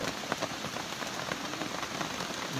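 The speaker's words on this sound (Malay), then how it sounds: "Malam ni suasana ada hujan." Steady rain patters continuously on a surface at night in a forest camp, a dense, even hiss of drops with no other sounds, moderately close.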